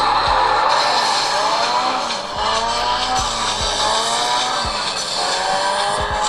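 Racing car engine in a tablet video game, with tire squeal over it: a loud, continuous engine whine with shifting pitch and repeated brief squeals and thumps, no talk.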